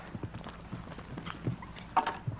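Horse hooves thud softly across the arena during a show jumping round at a 1993 World Cup qualifier in Busselton. The footfalls come as a quiet, irregular series of muffled clip-clops with a few sharper hits.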